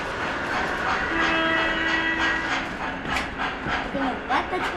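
Model train on a FastTrack home layout being backed into place, a steady rolling rumble with faint clicking, with people talking and background chatter over it throughout.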